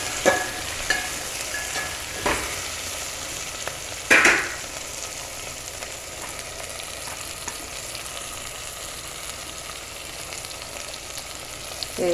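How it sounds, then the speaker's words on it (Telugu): Thick-cut onion frying in a pan gives a steady soft sizzle throughout, with a few sharp clinks and scrapes of a utensil breaking in near the start and middle. "ఇలా లావుగా కట్ చేసుకున్న ఉల్లిపాయ. ఎక్కువసేపు వేగనియద్దు దీన్ని."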